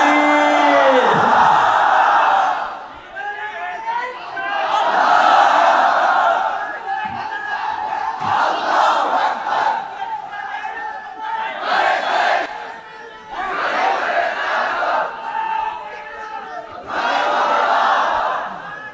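Large crowd at an outdoor Islamic religious gathering in Dinajpur chanting the takbir response in loud, unified bursts, several repeated calls of a few seconds each separated by brief pauses, with a leader's voice between them.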